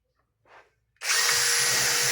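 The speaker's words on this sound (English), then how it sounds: "mark your position now, drill your hole" After a brief soft scrape, a power drill whirs up abruptly and runs loud and steady, grinding into a wall up close during a home fibre-optic installation.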